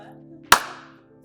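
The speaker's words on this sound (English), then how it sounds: "I just need a clap" A single sharp hand clap before a recording of a laser rangefinder comparison, close and crisp with a short decaying room echo, over quiet background hum.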